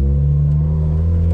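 A 2007 Chevrolet Cobalt SS with a newly replaced downpipe gives a loud, steady, low-pitched engine drone close by, holding an even rev for the whole moment.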